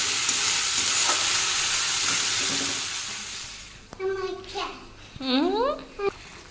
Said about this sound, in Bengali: আমি আলু ভাজা বসে দিয়েছি